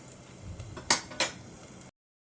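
A red radish thalipeeth is flipped in a pan and the pan is covered with a lid, giving two sharp metallic clinks over quiet kitchen background, with no talk.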